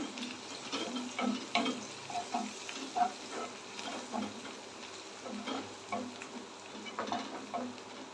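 Curry leaves and turmeric powder sautéing in oil for an egg curry, with a steady soft sizzle and intermittent stirring scrapes close up and no talk.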